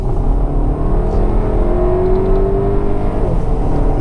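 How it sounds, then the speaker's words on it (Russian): A new Volkswagen Tiguan accelerates hard with the throttle floored. The engine drones loud and close from inside the cabin, its tone climbing steadily as revs build. "газ в пол."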